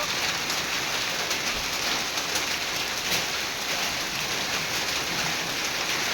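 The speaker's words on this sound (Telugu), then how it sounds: "చూడండి మా ఇంటి ముందు పూల వర్షం పడ్డట్టు పడుతున్నాయి రాళ్ళు." Hailstones pelt down outside a house front during a hailstorm, a dense, steady hiss of impacts that holds at an even, loud level throughout.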